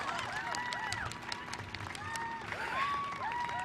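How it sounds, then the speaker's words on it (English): Welcome applause from an audience at a school baccalaureate ceremony, a soft distant patter of clapping under a faint crowd murmur, with a few cheering voices rising and falling over it. "Please join me in giving a welcome applause"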